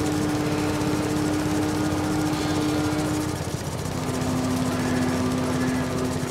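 A lawn mower driving in the video game Farming Simulator 22, a steady loud engine drone with a constant tonal hum that shifts pitch slightly midway.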